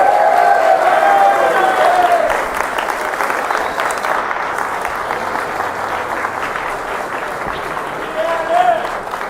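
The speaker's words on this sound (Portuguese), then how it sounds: "uma salva de palmas para as mulheres." A political rally crowd in the city of Santos, Brazil applauds loudly and steadily for several seconds, a dense wash of clapping with some cheering, fading slightly toward the end.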